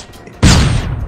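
FR5 assault rifle fire in the mobile shooter Call of Duty Mobile, a sudden loud burst of rapid shots that sets in partway through and continues to the end.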